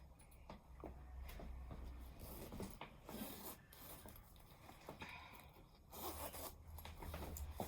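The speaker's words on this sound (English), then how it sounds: "it zips up really nicely" A garment zipper pulled up in several close, rasping runs with short pauses between, near and fairly quiet against a soft room background.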